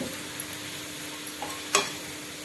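Cabbage rice cooking in oil in a pan gives a soft, steady sizzle and gentle bubbling, with a brief louder stir or scrape near the end and no talk.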